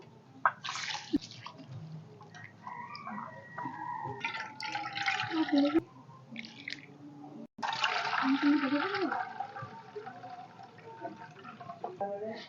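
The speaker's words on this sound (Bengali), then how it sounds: "চালটা ধুয়ে নেবো।" Rice being washed in water in a village kitchen, bursts of pouring, swishing and splashing broken by pauses and drips, close and uneven, with a voice talking faintly in the background.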